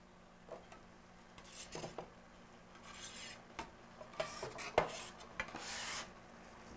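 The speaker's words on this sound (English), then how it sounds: "Stir that around." A spoon stirs a soup mixture with salt pork in a pot, giving faint, irregular scrapes and light clinks against the pot's sides, quiet and close with no talking.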